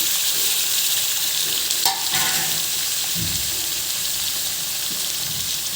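Chicken pieces fry and sizzle in a pan with steady crackling, and a spoon stirs and scrapes through them partway; no one speaks.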